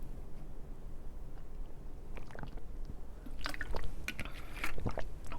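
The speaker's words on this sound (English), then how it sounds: "Let me take a sip of water." Someone takes a sip of water, with soft wet slurps, swallowing and small liquid clicks close to the mic over a quiet background, growing busier toward the end.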